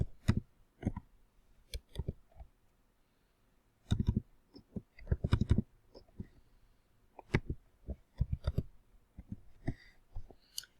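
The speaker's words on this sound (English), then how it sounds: "Now I'm going to type in some numbers." Scattered bursts of soft key clicks come from numbers being typed on a computer keyboard while filling in a spreadsheet, quiet and close, with pauses between groups of presses.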